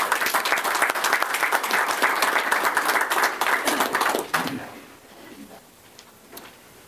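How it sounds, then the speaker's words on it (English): Steady applause from an audience at a press conference, dense clapping for about four seconds that then fades to scattered claps and room quiet. "let's give Coach Lee Kirkendall a round of applause, all right?"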